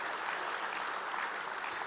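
A policy summit breakfast audience applauds, an even, fairly faint wash of clapping that fills the whole short moment without a break.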